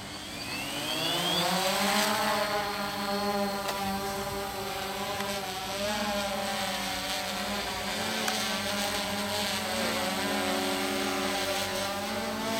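Small remote-controlled aircraft motors spin up steadily for takeoff, a continuous rising whine with strong harmonics that holds loud and close throughout.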